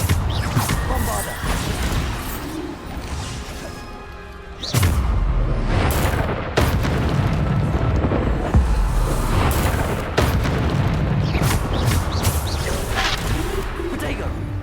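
Bombarda explosion spells in Hogwarts Legacy go off as heavy booms, with one big blast midway followed by further thumps and combat clatter, under frequent talking.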